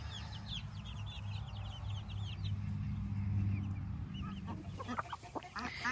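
Several chickens cluck and chirp in bursts while pecking at a snack, fairly close and moderately loud over a steady low hum, with a few sharper clucks near the end.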